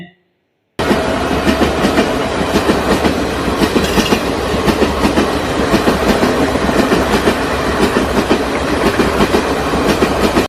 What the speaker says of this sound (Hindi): चुक चुक करती रेल चली है